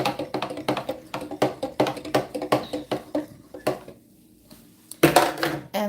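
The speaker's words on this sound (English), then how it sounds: "Just give this a quick stir." Green juice of broccoli, kiwi and spinach stirred in a container, giving a run of quick, close clinking taps at a steady rhythm, a short pause, then a louder burst of clatter at the end.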